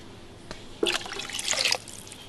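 Water is poured into a pot of dal cooking outdoors over a makeshift fire, a brief splashing pour that runs for about a second after a soft tap, fairly quiet and close.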